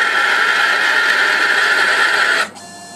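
An Emco PC50 CNC lathe turning a CZ121 free-cutting brass rod at 250 spindle RPM gives a steady, loud mechanical whir with a high tonal whine, then drops abruptly to a quieter hum near the end.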